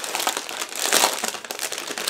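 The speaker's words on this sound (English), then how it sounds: "first we will start from the plastic bag" Plastic bag holding the plastic parts of a 1/16 scale figurine model kit crinkles close up, a dense, continuous rustling with small crackling bursts.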